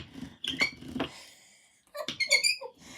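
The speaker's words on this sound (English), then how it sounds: "This brayer's a bit squeaky." A rubber brayer rolling over a card for a tri-fold project gives off sharp, high squeaks in two bursts, with a pause between them, close and fairly loud.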